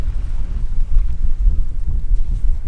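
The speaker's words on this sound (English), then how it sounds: "I don't know if it's gonna work on this wind." Wind buffeting a microphone beside an anchored dinghy on the water, a loud low rumbling gusty roar that rises and falls continuously with no voices.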